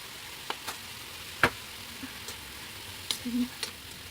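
A spoon stirs lumpia vegetable filling seasoned with salt, soy sauce and pepper in a hot pan, giving a soft steady sizzle broken by a few light scrapes and clicks of the utensil, close and fairly quiet.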